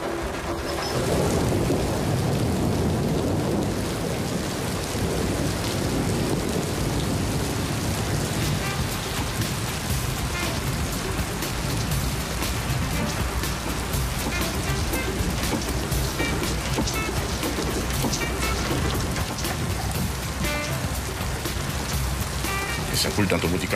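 Heavy rain pours down steadily in a thunderstorm, with rumbling thunder mixed into a dense, loud wash of sound from start to end; voices can be heard under the storm.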